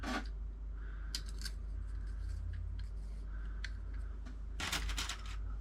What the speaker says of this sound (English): I cut them to around 6 inches and they fit through.